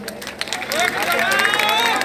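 A crowd at a live Punjabi concert breaks into loud cheering and clapping, swelling after a brief lull and holding steady, with voices mixed into the roar.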